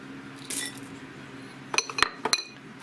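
Dark chocolate chips are poured into a bowl, with a brief rattle first and then several sharp clinks and taps against the bowl, close and fairly faint.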